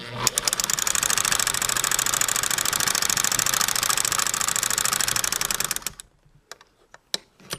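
A sewing machine stitching fast while quilting on a kitchen sewing table, a rapid, steady mechanical chatter of needle strokes for several seconds that stops abruptly, followed by a few sparse clicks.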